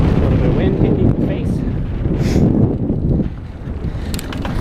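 Wind rushes loudly and continuously against a mountain biker riding single track at Hailes Trails in Gainesville, Florida, during a race, a heavy low rumble of buffeting that eases slightly toward the end.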